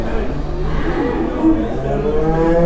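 A cow moos at a Turkish livestock market amid cattle sales, low drawn-out bellowing close by, with people talking over the crowd noise.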